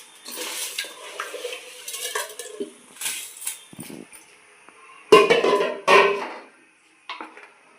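A spoon stirs rice through coconut milk in a cooking pot, giving intermittent scraping strokes and sharp metal clinks against the pot, close and fairly loud, with quiet pauses between.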